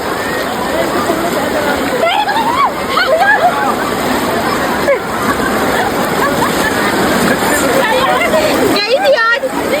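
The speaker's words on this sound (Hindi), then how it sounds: "पानी भी ऊपर आ रहा है। पानी आ रहा है।" River water splashes and sloshes continuously at Triveni Ghat in Rishikesh, loud and close, with a crowd's chatter and voices mixed in throughout.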